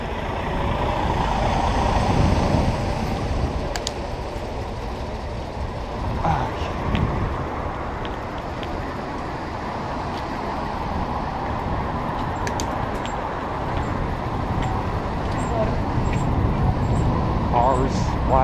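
Cars passing on a road at night near woods, heard as a continuous low traffic rumble with swelling whooshes of vehicles going by. Faint clicks and rattles sit on top, with a voice speaking at times.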